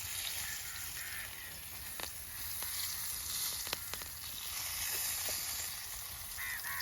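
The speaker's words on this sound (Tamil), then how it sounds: "ஒரு மாதிரி 2 மீனையும் பொரிச்சாச்சு" Fish frying in hot oil over a village cooking fire makes a quiet, continuous crackling hiss, with a few faint clicks and pops scattered through it and no voices.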